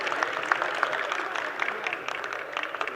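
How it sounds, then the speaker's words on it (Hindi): An audience at a quiz competition prize ceremony applauds winner Mansi, a steady round of clapping from a hall crowd with a few louder claps standing out. "एक बार जोरदार तालियों से उत्साहवर्धन करिए आप मानसी का।"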